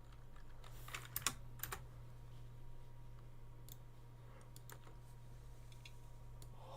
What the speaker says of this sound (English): and then we type the ID that we just got.